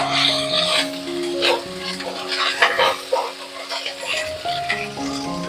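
Tomato and ginger paste fry in a pot with a pinch of panch phoron, stirred with a spoon in uneven scrapes and clinks over a soft, close sizzle.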